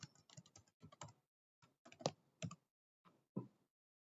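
A password being typed on a computer keyboard, with quick bursts of close, crisp key clicks separated by short pauses, fairly quiet and with no talk over it.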